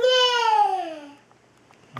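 A voice gives a single high, descending neigh-like whinny, imitating a horse, then a brief quiet pause.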